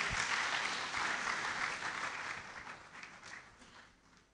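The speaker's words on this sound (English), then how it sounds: "Let's give him a round of applause." An audience applauds at a university inaugural lecture for Professor Ernest Kofi Davis, with steady dense clapping that holds strong before gradually thinning and fading toward the end.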